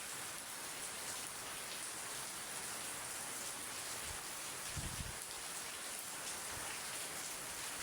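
Steady rain falling, a dense even hiss of drops on surfaces heard close and continuous, with a few faint low thumps and no talk.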